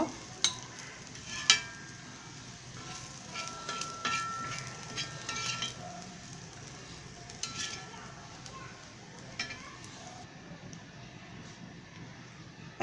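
Soft, steady sizzling of dried mola fish frying in a pan, with occasional scraping and metallic clinks from stirring.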